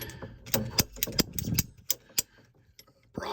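Cutting a water hose while fitting a shutoff valve in an RV bathroom, heard as a series of sharp clicking snips and ratcheting crunches, close and fairly quiet, bunched early and then spaced apart.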